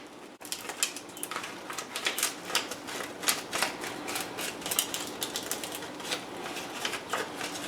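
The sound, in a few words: folding a nori sheet in half for sushi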